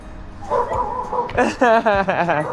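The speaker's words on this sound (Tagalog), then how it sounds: "Diyan yung mga dogs nila." Dogs bark, with several short yips and barks in quick succession close by, over background noise.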